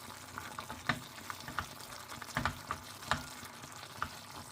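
Toasted garlic, ginger and chillies are stirred in a hot pan for a masala omelette, a soft sizzle broken by repeated scraping and clinking strokes of the spoon, close and fairly quiet.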